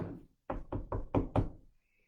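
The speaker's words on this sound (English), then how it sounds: "He knocked on the door." Knocking on a door of a house made of sticks: five firm knocks in a quick, even sequence after a single opening knock, close and fairly quiet, with no talk.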